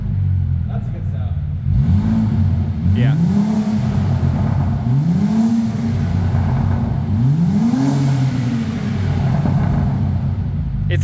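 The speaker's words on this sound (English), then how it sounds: "I'm cutting the mufflers off this thing." Saab 9-3 Aero engine with its mufflers cut off, revved several times in rising and falling sweeps, loud and raspy at close range, while someone talks briefly.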